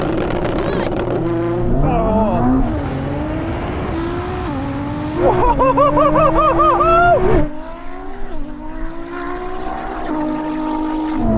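A Ferrari SF90 and a 1000 hp Nissan GT-R drag race side by side. Their loud engines climb in pitch through repeated gear changes and peak in a roaring surge before dropping off, with voices heard over the noise.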